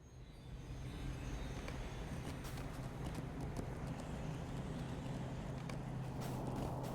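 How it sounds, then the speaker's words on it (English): Horse hooves clip-clop in Lord of the Rings Online near Edoras, a steady soft patter of hoofbeats running the whole time over a constant low ambient hum, with no voices. "these are the horses I was after"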